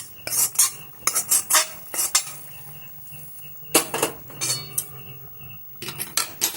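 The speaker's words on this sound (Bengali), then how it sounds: "রান্না করে রাখা চিকেনটা আমি এর মধ্যে দিয়ে দিলাম।" A spoon stirs cooked chicken into meat khichuri in a pot, making loud, close metallic scrapes and clinks in uneven bursts separated by brief quiet gaps, with no voices.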